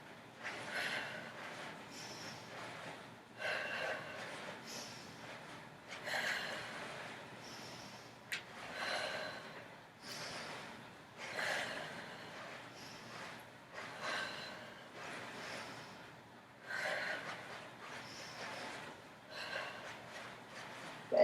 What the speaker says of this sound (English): Breathe out, breathe in, breathe out, breathe in.